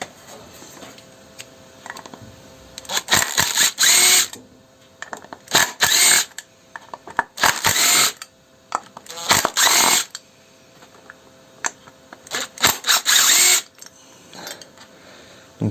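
A power screwdriver works on the charging circuit of a Honda VFR RC36-2 motorcycle, taking out screws in four or five loud, close whirring bursts with short pauses, quiet handling noise and faint background talk between them.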